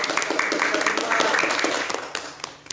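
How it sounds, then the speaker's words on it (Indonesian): A studio audience claps at the close of an Indonesian talk show discussion on student organizations, a dense patter of hands running throughout, with voices talking over it. "tepuk tangan dulu dong buat kita"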